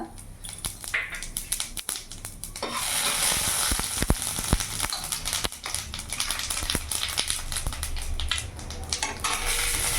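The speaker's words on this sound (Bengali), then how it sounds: "ওই তেলের মধ্যে এখানে ফোড়নে দিয়ে দিলাম একটা তেজপাতা, শুকনো লঙ্কা, গোটা জিরে, গরম মশলা।" Bay leaf, dried chilli, whole cumin and garam masala hit hot oil in a pan and burst into a loud, continuous sizzle and crackle, with sharp pops and spatters, close by and unbroken.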